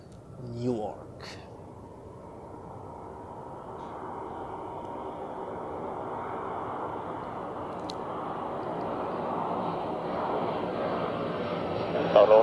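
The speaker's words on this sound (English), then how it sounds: "now we have the Swiss A330 from New York." A Swiss Airbus A330 arriving from New York at Zurich Airport, its jet engine roar building from faint to a steady loud rumble over several seconds, with brief talk at the start.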